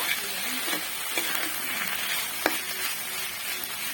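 Snake gourd frying in a pan with grated coconut, a continuous soft sizzle with occasional spoon scrapes and clicks as it is stirred.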